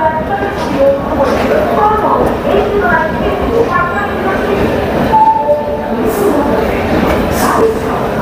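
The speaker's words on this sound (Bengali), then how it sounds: "আর ট্রেন আমাদের খড়গপুর স্টেশনে ঢুকে গেছে।" A passenger train pulls into Kharagpur station with a loud, continuous rumble and rattle of wagons, and faint wheel squeals now and then. Voices murmur underneath throughout.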